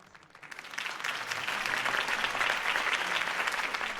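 Crowd applause for Harvey Dent's campaign speech in Batman: The Telltale Series, swelling from quiet to a sustained, dense clapping roar that holds steady.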